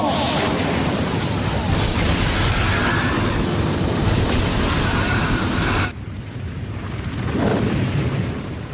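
A fire-style flame bomb erupts in a Naruto anime fight, a loud, dense roaring blast that rages steadily for about six seconds before cutting abruptly to a quieter lingering rumble.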